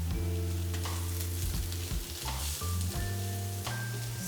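About six mushrooms frying in olive oil in a pan over high heat, a loud continuous sizzle with stirring scrapes throughout.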